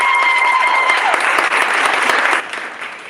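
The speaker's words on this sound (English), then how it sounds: "Please give yourselves a round of applause." An audience at a pitch competition event bursts into loud, dense applause that holds steady, then tapers and fades near the end, with a brief tone at the start.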